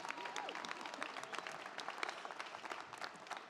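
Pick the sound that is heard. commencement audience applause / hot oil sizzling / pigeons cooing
commencement audience applause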